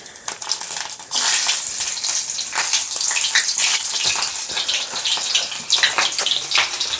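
Potatoes and cauliflower fry with cumin seeds and two green chilies in hot oil, giving a loud, steady sizzle with bursts of spattering and a sharper surge about a second in.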